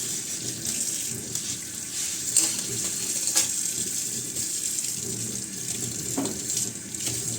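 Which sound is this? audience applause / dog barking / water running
water running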